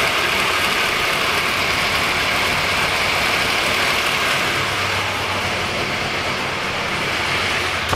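A 421 small-block V8 drag racing engine idles on a dyno, loud with a constant rumbling drone, steady and close, with no pauses or revving.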